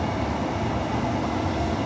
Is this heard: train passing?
yes